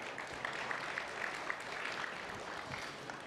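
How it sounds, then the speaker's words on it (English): An audience at a fintech conference claps in a steady, moderate round of applause throughout, a crowd of many hands at some distance. "Let's welcome them again with another warm round of applause,"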